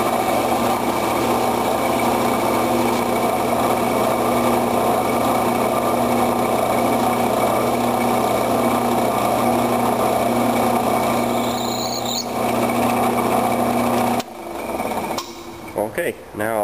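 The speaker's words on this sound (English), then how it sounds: "now we'll go ahead and drill that initial pilot hole" A steady high-pitched drill whine runs for most of the clip as a pilot hole is drilled into a block while making a knife, then cuts off near the end, followed by brief quieter mechanical sounds.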